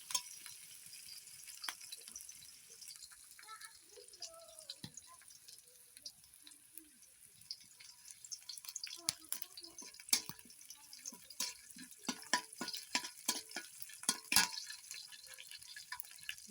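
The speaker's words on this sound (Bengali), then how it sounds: "পেঁয়াজটা আমি নাড়াচাড়া করে বাদামি কালারে করে নেব।" Chopped onions sizzle and crackle quietly in a pan in a village kitchen, with scattered stirring scrapes and pops, heard close and alone.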